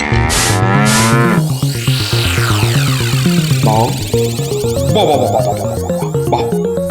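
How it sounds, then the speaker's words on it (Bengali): A bull in an animated comedy bellows loudly and close by, letting out a series of long, drawn-out lowing calls that rise and fall across the stretch with no one speaking. "কি চমৎকার ষাঁড়, কি নধর দেহ, যেন তেল চুইয়ে পড়ছে।"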